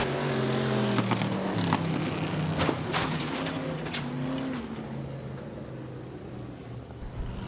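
Vintage race cars of the Good Old Time Racing Association run a heat at Rapid Speedway, engines droning steadily with rising and falling revs as cars pass, loud and continuous throughout.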